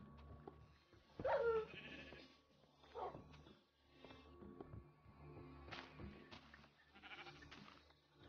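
Sheep bleat in the Minecraft video game, several short nasal calls spaced a second or two apart over quiet in-game ambience, with no speech.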